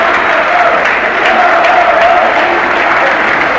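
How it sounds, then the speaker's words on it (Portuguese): Palmeiras fans in a packed stadium applaud player Viola during a 1996 Brazilian championship match against São Paulo, a loud, continuous roar of clapping and crowd noise sustained throughout. "Olha aí os aplausos da torcida do Palmeiras para a Viola"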